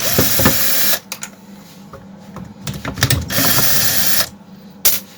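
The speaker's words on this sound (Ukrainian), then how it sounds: "Знімаємо, викидаємо, тут відкручуємо." Parts being unscrewed from a Procraft K450L chainsaw, with loud ratcheting, clicking tool and mechanism noise in bursts separated by brief pauses, close to the microphone.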